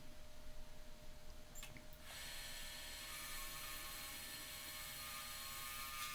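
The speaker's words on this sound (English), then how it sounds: "Yeah, there you can see the scraper there. It is like a teardrop type scraper." A teardrop scraper shaves a spinning wooden vase on a lathe: a steady, close, whirring hum with a faint ringing tone, briefly dipping before the cut resumes evenly.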